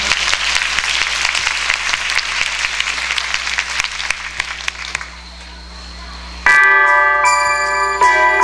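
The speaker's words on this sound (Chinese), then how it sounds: "好，让我们再一次以掌声来鼓励他们。" Applause from a congregation at a Christmas church service: steady, dense clapping for about five seconds that fades out, then bright sustained musical or bell-like tones begin.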